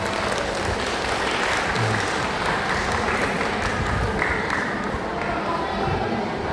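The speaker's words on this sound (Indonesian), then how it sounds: "Tepuk tangan untuk kita semua" Sustained applause from an audience at a Murung Raya tahfidz graduation ceremony, dense and steady for the whole stretch with no clear breaks, heard up close as a thick wash of many hands clapping.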